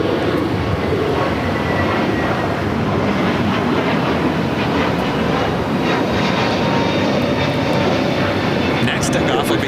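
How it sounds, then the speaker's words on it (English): A brand-new JetBlue Airbus A321neo takes off at LAX, its engines producing a loud, steady, broadband jet roar that fills the whole stretch without a break. "It's a brand new A321neo with JetBlue heading to JFK."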